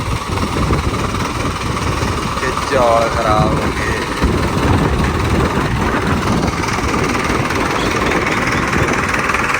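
A tractor engine drones steadily while driving through a flooded paddy field, a loud continuous low rumble that runs beneath someone talking close by.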